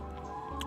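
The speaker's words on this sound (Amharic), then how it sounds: "እዚህ ግቢ ውስጥ ዶሮች አሉ፣" Chickens in a yard give off a brief, faint clucking that sits low under steady background noise and ends with a short, brighter call.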